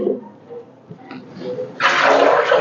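Water poured from a jug into a cooking pot (patili) on a home stove, first faint trickles and clinks, then a sustained loud splashing gush through the second half.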